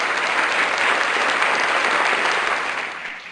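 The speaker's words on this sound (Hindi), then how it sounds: "Clap your hands for the glory of" A church congregation claps hands in sustained, dense applause, loud and close, fading out near the end.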